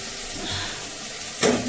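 Tadka tempering frying in a hot pan in a Himachali home kitchen, a steady close sizzle with a sudden louder crackling burst as more goes into the oil near the end.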